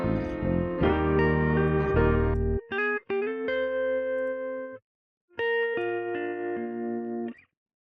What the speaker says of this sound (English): This is high tremolo guitar.